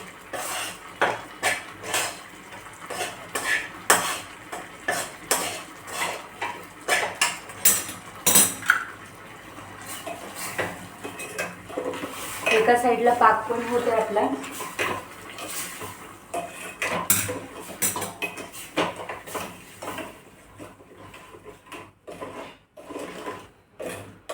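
Gram flour roasting in ghee for besan barfi, scraped and stirred in a metal pan with a spoon, giving a long run of near, uneven clinks and scrapes that swell midway and thin out toward the end.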